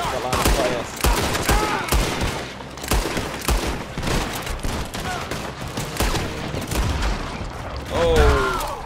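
Rapid bursts of gunfire crackle through a Red Dead Redemption 2 shootout, dense overlapping shots and volleys from several guns, close and loud, with a voice calling out between them.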